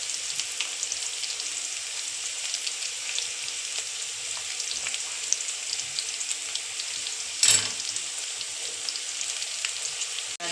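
Onion, green chili, ginger and garlic sauté in hot oil for a potato kurma, giving a steady, even sizzle throughout. One brief sharper stir or clatter stands out near the end.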